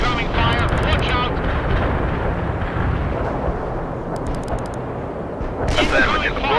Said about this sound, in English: Incoming fire. Watch out.